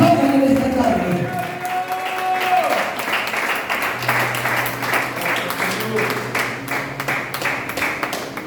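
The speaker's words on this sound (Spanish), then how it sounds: "si va a aplaudir, aplaudan en esta tarde" Church congregation applauding during an afternoon service: dense clapping builds and fills most of the stretch, with a voice and sustained tones heard early on, then the applause continues under a low hum.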